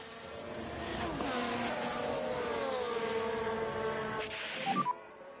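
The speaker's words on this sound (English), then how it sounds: "Sounds like that engine's on its way out, maybe." A failing race car engine in the F1 Manager 24 game at Lusail drones with steady, sweeping harmonic tones for several seconds, then falls away after a few sharp bursts near the end.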